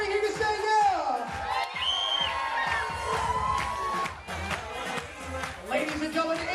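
Wedding guests at a country club reception cheer and shout yeah, a dense crowd of whoops and hollers with high excited voices throughout, continuous and loud.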